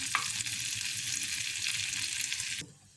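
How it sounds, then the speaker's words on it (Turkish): Sauce for a chicken soup sizzles loudly and steadily in a hot pan, a close crackling hiss that cuts off abruptly near the end. "Evet sosunu da Biraz kızmaya başladı."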